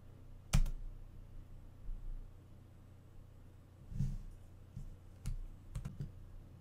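Computer keyboard keys being typed while entering code from a book, heard as a few scattered clicks and short bursts of keystrokes over a quiet low hum, with no talking.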